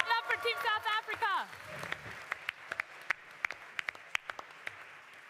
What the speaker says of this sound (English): Clap for Team South Africa.